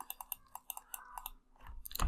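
Someone types on a computer keyboard in a quiet room, making a quick series of crisp, soft key clicks in an irregular rhythm. A louder thump comes at the end.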